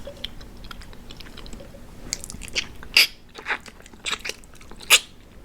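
Close, wet chewing and smacking from someone eating during a mukbang, with irregular crunchy bites and sharper smacks growing busier toward the end, no talking.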